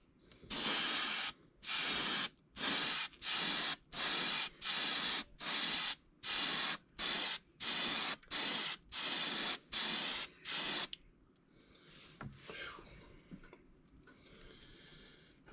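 Airbrush spraying mica powder paint onto a rag, in about a dozen short, loud, hissing bursts at a steady rhythm with brief gaps between them, then quiet background rustle.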